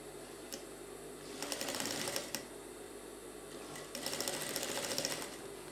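A sewing machine stitches a trouser side seam in two short runs of rapid, rattling needle strokes, close and fairly quiet over a steady room hum, with no talk.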